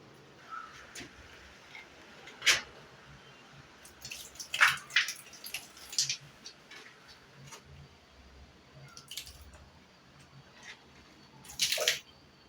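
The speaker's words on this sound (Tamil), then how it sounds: "இப்போ கொஞ்சம் தண்ணி ஊற்றி பார்க்கலாம்." Water poured onto a freshly tiled, sloped bathroom floor runs toward the drain holes. It comes as faint, scattered splashes and trickles, with a few louder bursts against a quiet background and no talking.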